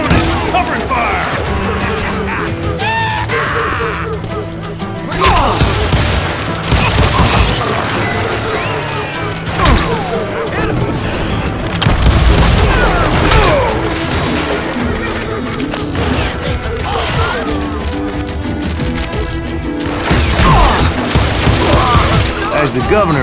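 Rapid gunfire, crashes and booms fill a chaotic Call of Juarez Gunslinger gunfight, loud and constant over music, with a voiced character shouting throughout.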